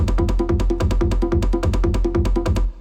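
A programmed paradiddle on hand drums from a percussion kit for a techno beat: fast, evenly spaced hits in a steady looping rhythm, loud and dry, running alone until a sudden stop.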